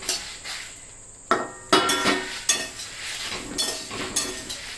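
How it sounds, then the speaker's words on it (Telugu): Cumin seeds tossed into garlic frying in a hot pan for a garlic-coriander powder: a faint sizzle runs under a series of close metallic clinks and scrapes as a spoon stirs against the pan. "చూడండి, ఇప్పుడు జీలకర్ర కూడా వేసేస్తున్నాను."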